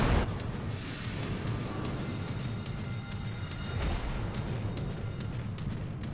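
Battleship main-gun salvo in the World of Warships naval game, Russian tier-5 Pyotr Velikiy: a dense, sustained rumbling barrage of deep booms rolling continuously under sharp periodic cracks, loud and close throughout.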